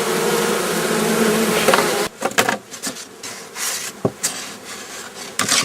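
Honey bees at a hive being fed sugar water, buzzing loudly and steadily up close at first, then thinner buzzing mixed with rubbing and handling noises.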